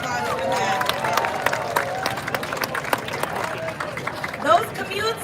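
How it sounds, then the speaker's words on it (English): An outdoor crowd at a trolley extension grand opening breaks into steady applause, with scattered whoops and excited voices mixed into the clapping at moderate distance. "Let's give a big round of applause for that"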